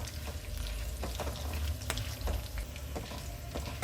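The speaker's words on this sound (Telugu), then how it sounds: "1 టేబుల్ స్పూన్ వరకు పచ్చిశనగపప్పును వేసేసి దీన్ని మొత్తాన్ని ఫ్రై" Chana dal and curry leaves fry in hot oil in a pan, a steady close crackling sizzle with sharp pops and occasional stirring scrapes, no voices.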